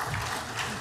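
Brief, steady clapping from an audience at a debate on energy self-consumption, a dense spatter of hands that stays even and fairly close.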